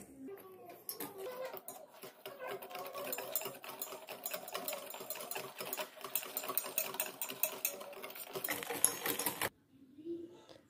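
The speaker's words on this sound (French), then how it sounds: "on va venir mettre dans le mélange farine et sucre les 3 œufs. Et on va mélanger." Eggs are mixed into flour and sugar for a chocolate cake with a quiet, fast rhythmic clatter, likely a mixer or whisk working steadily for about nine seconds before stopping, with faint speech nearby.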